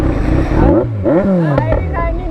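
A Kawasaki Z900 motorcycle engine revving up and down in sharp rising and falling sweeps, loud and close, with voices talking over it.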